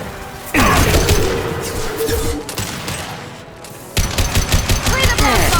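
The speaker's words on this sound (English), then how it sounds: "Concussive shot ready." A concussive shot ability fired in the game Mass Effect 2: a sharp, loud burst in the middle of sustained combat gunfire and crashes, with another heavy impact near the end, all dense and close.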